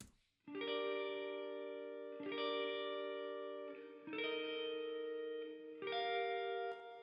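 Four sustained chords, each ringing out in a wide, spacious large-hall reverb tail that lingers and blends into the next, moderately quiet.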